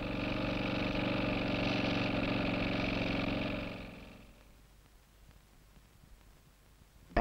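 A motorized 100-ton hydraulic compressor crimps a sleeve onto the joined steel cores of a 500,000-volt underwater power cable, giving a steady, loud mechanical drone for about three and a half seconds before cutting out to near quiet.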